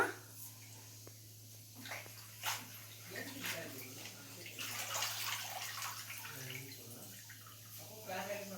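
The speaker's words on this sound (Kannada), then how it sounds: "ಈಗ ಕುಕ್ಕರಿಗೆ ಬೇಳೆ ಸೊಪ್ಪೆಲ್ಲ ಮುಳುಗಕ್ಕೆ ಎಷ್ಟು ನೀರು ಬೇಕೋ ಅಷ್ಟು ನೀರು ಹಾಕ್ಕೊಂಡು" Water pours into a pressure cooker holding lentils and spinach for a Karnataka-style spinach saaru. The pouring is a faint, uneven splashing and trickling, with speech heard alongside it.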